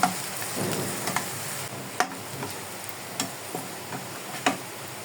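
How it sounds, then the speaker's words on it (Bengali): Onion and garlic fry in oil with a continuous close sizzle, broken by a series of light taps and stirring clicks at irregular intervals. "পেঁয়াজ রসুন লাল লাল করে ভেজে নেব"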